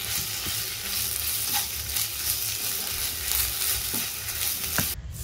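Ginger garlic paste fries in a hot pan, a steady close sizzle with occasional sharp pops and light stirring clicks, continuing evenly without any talk.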